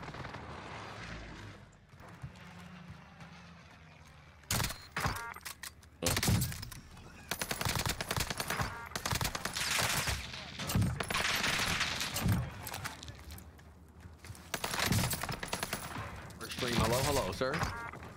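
Kar98 rifle shots and other gunfire in Call of Duty Warzone on Rebirth Island, with sharp, irregular bursts and cracks coming in clusters after a quieter start, and voices talking in between.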